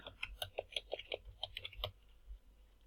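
Fingers type on a computer keyboard in a quick run of light, closely spaced key clicks, fairly faint and close, ending in a final tap before a short quiet stretch.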